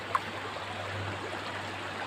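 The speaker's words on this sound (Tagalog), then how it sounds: "lakas ang agos dyan o" Strong river current at a barangay creek, a steady rushing, gurgling water flow heard close and continuous for a couple of seconds.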